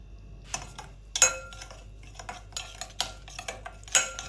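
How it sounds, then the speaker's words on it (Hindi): Raw chicken is stirred into a vinegar and chili sauce marinade in a bowl, giving quiet, close clinks and scrapes of a utensil against the bowl in an irregular rhythm, without any talk. "चिकन डालकर मिक्स कर लें।"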